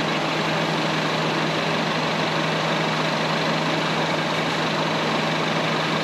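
A Citroën engine idle hums continuously at about 68 decibels with an even, unchanging drone and a broad hiss over it, heard alone without any voices.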